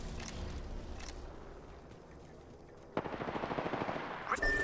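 Automatic gunfire in the Apex Legends video game, a steady busy crackle of shots that bursts into a loud, rapid fusillade near the end, close and dominant over the game's background sounds.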